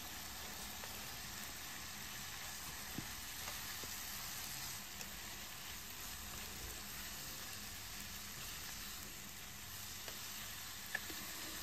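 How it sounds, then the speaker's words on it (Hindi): Fried okra stirred into a yogurt masala in a pan, giving a soft, even sizzle that runs steadily throughout with a couple of faint clicks and no talking. "फ्राई की हुई भिंडियाँ इसमें शामिल कर देंगे"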